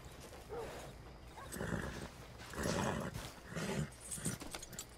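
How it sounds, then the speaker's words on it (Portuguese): A chestnut Arabian thoroughbred horse in Red Dead Redemption 2 gives a soft whinny and snorts near a general store in town, with a few hoof sounds and no talk. "Deixa eu prender aqui o nosso puro sangue árabe alazão avermelhado."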